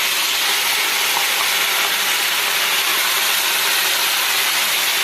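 Meat with spices just added sizzles hard in a hot pan, a loud, dense, steady hiss running the whole time with no voices.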